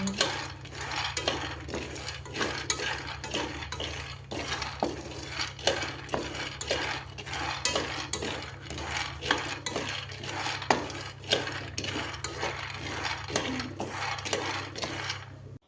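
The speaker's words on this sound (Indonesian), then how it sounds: "Sangrai kacangnya sampai matang seperti ini." Peanuts dry-roasted in a pan, stirred with a spatula in steady rhythmic scrapes and rattles of nuts against metal, moderately close, with no voices.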